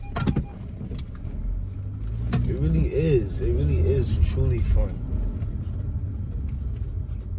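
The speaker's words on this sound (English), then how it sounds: "I hope you guys can hear the shifts and hear the engine when it's shifting" Car engine with an automatic transmission running under steady rumble, rising and falling as it shifts through gears, with a person talking over it in the cabin.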